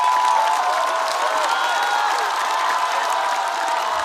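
Studio audience at a stand-up comedy competition show applauding and cheering a contestant advancing to the next round, a loud, continuous crowd roar with scattered whoops and clapping throughout.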